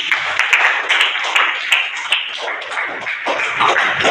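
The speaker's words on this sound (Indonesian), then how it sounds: "Tepuk tangan untuk tadi." Classroom applause during a teaching session on prayer and remembrance, with scattered, uneven hand claps from a small group for about four seconds, mixed with some voices.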